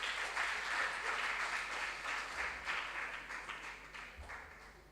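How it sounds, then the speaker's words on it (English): Audience applause at a regional junior science and maths quiz contest in Ashanti Region: faint, steady clapping from a crowd, fairly distant, gradually tapering off toward the end. "Can we give them a round of applause?"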